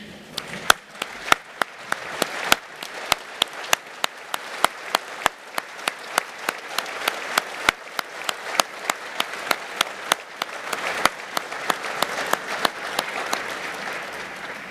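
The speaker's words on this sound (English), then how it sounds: "give another round of applause to Mr. President for the reassuring speech" Applause for the president fills a hall at the African Land Forces Summit 2024, a steady crowd clapping with sharp individual claps standing out, sustained for the whole stretch at moderate distance.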